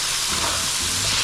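Onion and garlic frying in a pan for a Nepali thukpa gravy, a dense steady sizzle and hiss filling the short moment, close and fairly loud with no talking.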